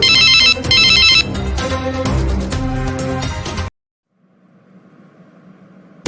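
A telephone rings loudly in bursts of a repeating electronic ringtone after a number is dialled, then cuts to near silence with a faint low hum before another burst starts at the very end.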